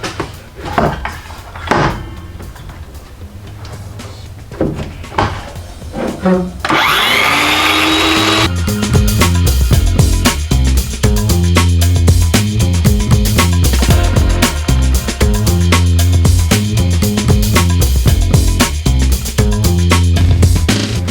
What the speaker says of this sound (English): I'll trim the last section there using the multi-tool.